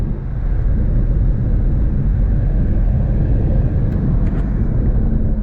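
Tesla Model S P90D under full-power acceleration on a drift course, heard as a steady, loud low rumble with road and wind roar, continuous and unbroken throughout.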